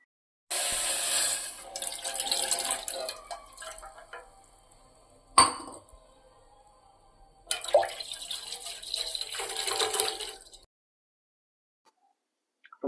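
Water pours in steady splashing streams into a metal milk pot, in two longer bursts with a sharp clink between them and silence at the end.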